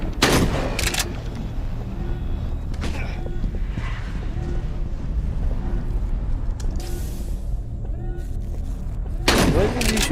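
Rapid bursts of video game gunfire crack out, loud at the start and again near the end, over a constant rumbling background of in-game noise.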